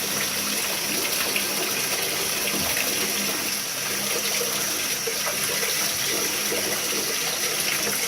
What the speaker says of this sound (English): Run a little water through there.